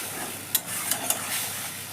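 Prawn curry with lotir stems sizzles in the pan just after a splash of water, a steady close hiss with a few brief sharp spits and crackles, no voices.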